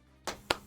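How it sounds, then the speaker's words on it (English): Three slow, isolated hand claps, close and crisp, spaced evenly apart in a quiet room, like a sparse sarcastic golf clap. "Golf clap."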